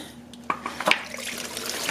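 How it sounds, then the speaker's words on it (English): Engine coolant splashing and dripping out as the water pump is removed from a 1997–2001 Honda CR-V, with a few close irregular liquid splats over a wet trickling background and no talking. "It always makes a big mess from all this coolant that's still stuck in the water tube and in the back of the engine."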